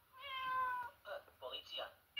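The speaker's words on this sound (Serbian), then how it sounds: "M. Mačka." A children's alphabet learning tablet plays a recorded cat meow, a single clear drawn-out call followed by a short electronic voice.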